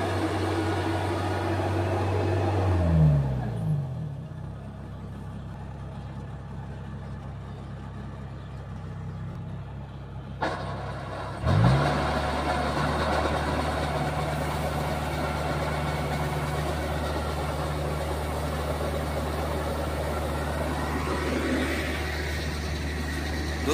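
A Mahindra Yuvo 585 4x4 tractor towing a trolley labours on a steep road, its engine droning steadily and loudly, with a sharp drop in revs partway through before the heavy rumble resumes.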